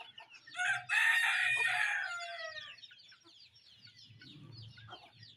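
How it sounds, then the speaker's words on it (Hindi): A rooster crows loudly and close for about two seconds, accompanied by clucking from hens and chicks being hand-fed at home, followed by softer clucks and low murmuring from the flock. "मुर्गियों और चूज़ों को अपने हाथों से खाना खिला रहे हैं"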